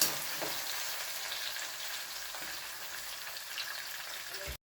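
Tomatoes simmering in a pot of fish sinigang with tilapia, giving a steady close sizzle and bubbling hiss that runs evenly throughout before cutting off abruptly at the end.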